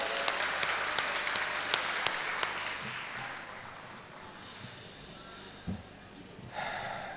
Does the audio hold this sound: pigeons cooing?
no